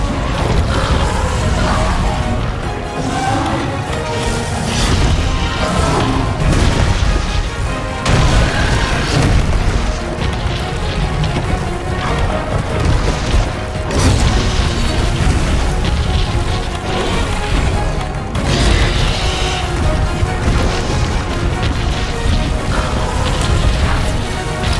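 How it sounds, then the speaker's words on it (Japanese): Slime explosions from the monster Brachydios in Monster Hunter World: Iceborne, heavy booming blasts that repeat one after another over a dense, loud mix of game music and effects. "回避行動で粘菌の増殖を抑えないと爆発が大きくなるぞ"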